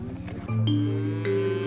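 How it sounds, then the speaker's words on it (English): Cattle moo in long, steady, low calls close by while being herded onto spring range, one lowing call running into another over a rough outdoor background. "Once the cattle were herded into the spring range"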